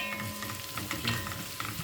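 Whole cloves, a cinnamon stick and fragrant seeds sizzle softly in a pan for mutton pulao, with a gentle stir adding faint scraping clicks over a quiet, steady frying hiss.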